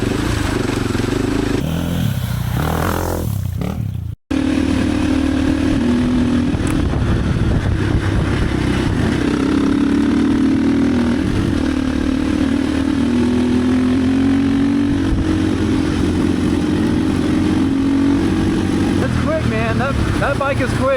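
A KOVE 450 Rally and a KTM 450 XCF-W dirt bike ride on a gravel road, their engines a continuous loud roar mixed with wind rush and rattling, with one short dropout early on.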